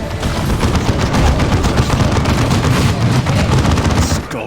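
Dense, continuous gunfire from a Warhammer 40K Dawn of War II battle, rapid overlapping shots and bursts loud and close throughout with no pause.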